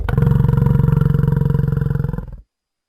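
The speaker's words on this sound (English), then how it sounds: "Bison." Bison bellowing: a single long, deep, rumbling roar with a pulsing, grinding texture, loud and close, lasting about two seconds before cutting off into silence.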